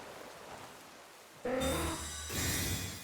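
Rain weather in a Pokémon battle video game plays as a steady hiss of falling rain, joined midway by a louder layer of game sound effects with a tonal hum, with no voices.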